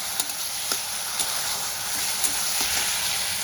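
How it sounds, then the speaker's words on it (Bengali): Potatoes and spices fry in a pan for a vegetarian curry, a steady broad sizzle holding throughout with a few soft clicks of stirring over it, close and moderately loud, no voices. "এবার ভেজে রাখা আলুটা দিয়েও আমি কষাতে থাকি মশলার সঙ্গে।"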